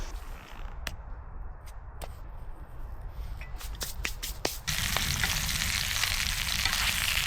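Extra virgin olive oil poured into a pan for frying Spam outdoors in the woods, quiet clicks and handling first, then a sudden steady hissing sizzle that continues at close range.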